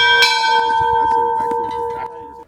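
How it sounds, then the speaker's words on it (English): Bell of the 1913 railroad engine at Lewis Junction ringing several times outdoors, each clear metallic strike ringing on with long overtones, close and loud, with faint background voices in between. "celebrated the new year with the bell belonging to the 1913 railroad engine at Lewis Junction"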